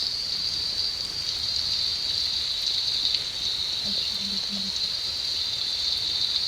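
Steady rain falls in a Roblox video game, a continuous bright hiss that stays even and unbroken throughout, with a few faint low tones briefly underneath.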